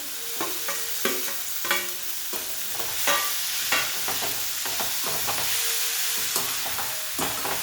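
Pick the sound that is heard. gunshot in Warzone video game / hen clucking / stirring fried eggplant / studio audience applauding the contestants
stirring fried eggplant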